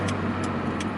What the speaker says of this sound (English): when I try to accelerate, this car hesitates